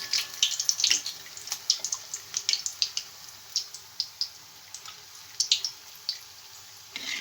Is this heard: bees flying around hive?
no